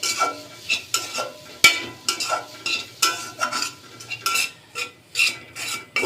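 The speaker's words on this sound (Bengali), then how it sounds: "ধনেপাতাটাও পুরের সাথে ভালোভাবে মিশিয়ে নিব" Spoon stirring chopped coriander leaves into a fried cauliflower paratha filling in a pan, a run of scraping, rasping strokes with one sharp metallic clink, close and alone without talk.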